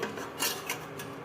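Homemade vanilla cream being mixed for cupcakes, with a scraping, rubbing sound of utensil against bowl in a few close, soft strokes.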